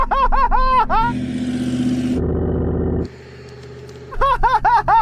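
An off-road car in a Suzuki Jimny versus Hummer H2 race launches from a standstill with wheelspin: a loud engine revs hard, rises and falls through surging pitch, then pulls steadily away, close and with no talking.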